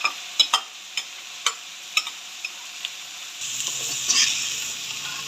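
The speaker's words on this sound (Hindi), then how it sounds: "अब हम इसमें डालेंगे दाल जो हमने बॉयल की थी।" Boiled dal goes into roasted masala: sharp utensil taps and scrapes come first, then a louder, rising sizzle as it is stirred in the pan.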